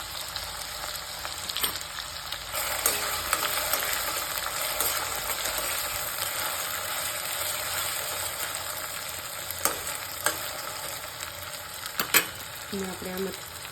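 Crushed onion, ginger and garlic sizzle in hot oil for a home-cooked green pigeon pea dish, giving a steady, close, broadband crackle that runs the whole time, with a few sharper pops and light utensil knocks near the end.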